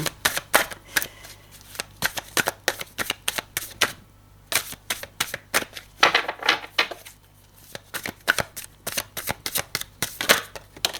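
Tarot cards being shuffled and drawn by hand: rapid, crisp riffling and snapping bursts in quick irregular runs, close and loud, with short pauses between rounds and no voices.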